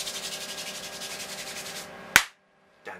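Calloused hands rub together in a rapid, steady rasping back-and-forth close up, then stop with a sharp clap and brief silence before a faint rustle.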